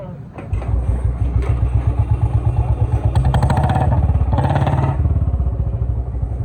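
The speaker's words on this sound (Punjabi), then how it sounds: "ਜੀ ਬੁਲਟ ਹੋ ਗਿਆ ਸਟਾਰਟ" A Bullet motorcycle engine starts and settles into a loud, steady thumping idle with a rapid, even beat, close by, its pitch rising briefly mid-way.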